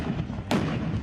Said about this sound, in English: artillery fires at ISIL positions